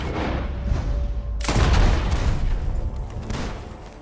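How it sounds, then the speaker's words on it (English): A sudden burst of loud gunfire in Red Dead Redemption 2 erupts after a quiet moment, coming from a barn, then continues as sustained rapid shots with booming echoes. "The gunshots are coming from that barn!"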